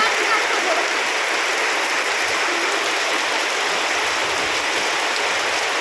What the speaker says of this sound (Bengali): এত বৃষ্টি হয়েছে জলের এগুলো পুরো ভিজে গেছে